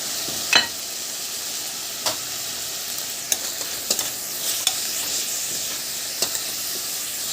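Salt, pepper, cumin and dried coriander frying in a pan are stirred, giving a soft continuous sizzle with several sharp scraping clicks of the spoon against the pan, close and alone.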